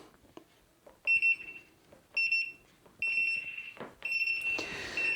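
A Lumos Sonorus smart e-bike helmet sounds its turn signal as four bright electronic beeps, each short and clear, repeating at roughly one-second intervals and growing longer toward the end.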